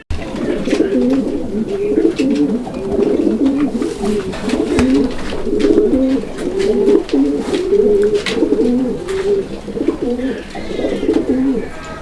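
Pigeon cooing repeated over and over in a steady, rolling rhythm, close and fairly loud, continuing for the whole stretch with faint chirps above it.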